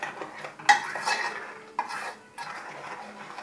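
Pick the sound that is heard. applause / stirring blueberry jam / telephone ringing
stirring blueberry jam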